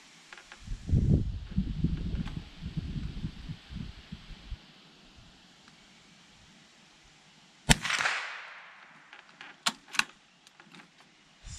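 A Sako Quad .22 LR rifle fires a single sharp crack with a short decaying tail, following a stretch of low handling rumble and quiet background.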